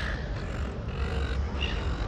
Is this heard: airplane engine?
no